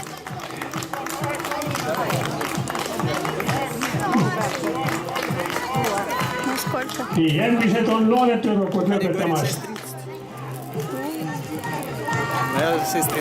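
Spectators clap for young women runners finishing a 2000 m race at an outdoor running series event, steady applause and crowd noise running under a loud announcer's voice throughout.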